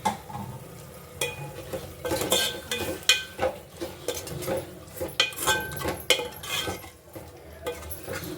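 Spices are stirred into the pan for chicken biryani, with repeated scraping and clinking of a utensil against metal over a soft sizzle, in uneven bursts throughout.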